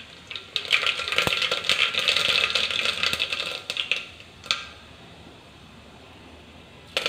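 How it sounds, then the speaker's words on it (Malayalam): Mustard seeds popping and crackling in hot oil in a pan, a dense burst of sharp sizzling pops for a few seconds that thins out to scattered crackles and then near quiet. "ഓയില് ചൂടാവുമ്പോൾ കുറച്ച് കടുക് ചേർത്ത് കൊടുക്കാം."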